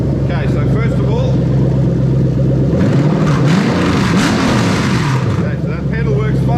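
A Toyota 1UZ-FE VVT-i V8 is swapped into an IS200 and revved through its accelerator pedal. The engine rises from idle in a couple of rolling revs and falls back, loud and close, and some speech is faint underneath.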